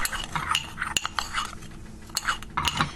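A spoon clinks and scrapes in a bowl while stirring dry mustard and red pepper flakes into a dry spice mix, quick irregular metallic taps, close and alone without speech.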